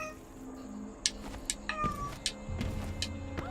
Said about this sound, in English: The cat's growling at cars.